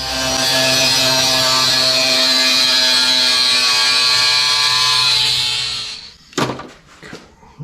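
A power tool cuts off a section of a plastic intake tube during an LS swap intake and MAF sensor install, a loud, steady buzzing whine that runs for several seconds, then stops, followed by a few sharp knocks and rattles.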